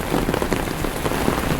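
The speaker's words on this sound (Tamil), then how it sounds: "பாருங்க எவ்வளோ பயங்கர மழை இருக்குது." Heavy rain pours down steadily in Mumbai, a dense, close, continuous hiss of drops drumming on surfaces with no pauses and no voices.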